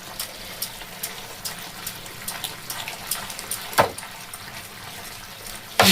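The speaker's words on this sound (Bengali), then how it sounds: "একটুখানি আমি হাই ফ্লেমে দিয়ে দেখুন জলটাকে ফুটিয়ে নিলাম।" Water for egg masala puri comes to a boil in a pot on a high gas flame, a continuous bubbling, hissing simmer with scattered pops, close and fairly loud, no talk.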